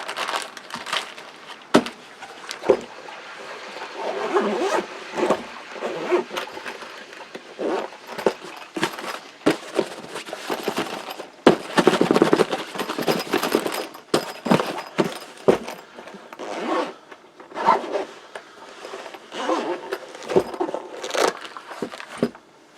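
Walkie-talkie radios, Midland GXT1000 handhelds, rattle and clatter inside a carrying case as it is shaken in irregular bursts, close up with jangly knocks and soft rustling throughout.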